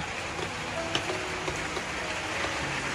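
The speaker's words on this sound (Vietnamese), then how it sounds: "thì nay đang mưa" Steady rain hisses continuously, with scattered sharper drips and taps on nearby surfaces and a faint tonal hum underneath, and no talking.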